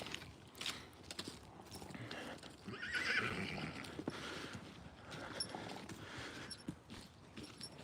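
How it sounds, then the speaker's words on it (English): Paddock horses run about with steady clip-clopping hooves while one lets out a loud whinny partway through, the hoofbeats continuing around it. "See, now those horses are running around like idiots, Joda."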